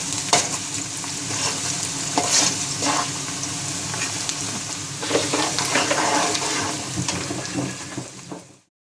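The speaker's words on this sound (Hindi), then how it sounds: "प्याज हमने इसमें डाल दिया है, तो प्याज को अभी हम अच्छे से ब्राउन करेंगे।" Chopped onions sizzle steadily in hot oil in a kadai on a stove. The frying is loud and close, with stirring scrapes throughout, then it cuts off abruptly near the end. No voices.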